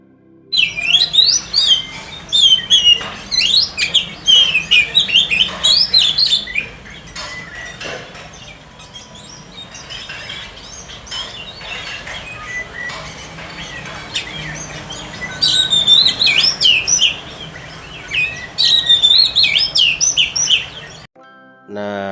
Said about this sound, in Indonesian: ini kondisi si kacer salto ketika dipancing seperti itu